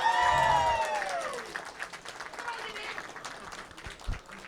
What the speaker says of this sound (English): So a cheer for Eltonus. Let's hear it